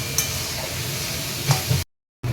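Chopped onion, ginger and garlic masala fries on a high flame in a pan, producing a constant loud sizzle with a couple of scraping stirs, then a brief cut to silence before the sizzle resumes.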